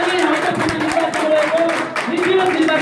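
Loud, dense clapping from an assembled crowd greets newly elected officers at a Ramechhap cultural artists' association election, with a voice speaking over the applause throughout.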